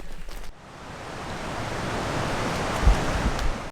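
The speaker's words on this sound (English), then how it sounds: "The hot spring is right next to a rushing creek" A rushing mountain creek beside Meager Creek Hot Springs roars in a steady, close wash of broadband noise, with a brief thump near the start and a small knock later on.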